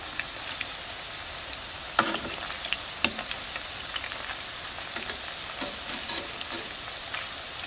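Meatballs sizzle steadily as they fry in a pan, a dense crackling hiss with a few sharper pops and spatters standing out, close and continuous with no talking.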